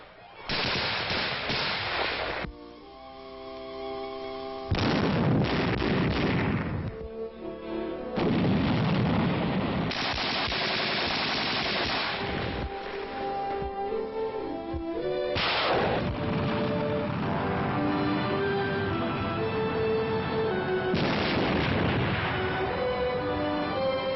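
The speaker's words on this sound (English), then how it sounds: "The infantryman's rifle is his best friend. He sharpens his shooting eye on cardboard enemies." Infantry rifle fire at target shooting practice on cardboard enemies, repeated loud bursts of gunfire in several long volleys, under music and a narrator's voice.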